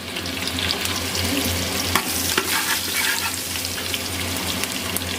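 Onion and curry leaves crackle in two spoons of hot oil as a tempering, a dense close sizzle with stirring clatter over a low steady hum, no speech.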